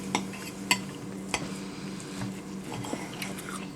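Cutlery scraping and tapping on a plate while cutting into a potato pancake at a mukbang meal, a few light clinks and soft squishy cuts, close and fairly quiet.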